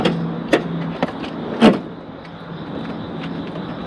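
Front seats of a 2015 Toyota RAV4 are pushed forward: a few sharp mechanical clunks and latch clicks near the start, a louder thud at mid-point, then a quiet interior hush.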